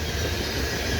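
A CN grain freight train rumbles past Pointe Claire station up close, a loud steady roar of heavy wheels and rolling railcars with no pause, shaking the platform railing.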